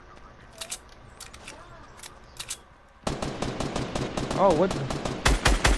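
Fortnite gunfire: scattered bursts of shots at first, then a dense, louder stretch of rapid fire in the second half, with a person talking briefly over it.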